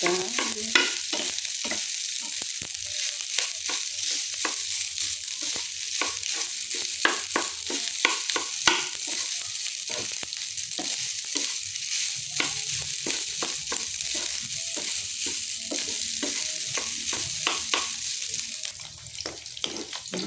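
Leftover rice and garlic sizzle steadily in a pan for a long stretch, broken by frequent scraping, stirring clicks of a utensil, close and fairly loud with no talk.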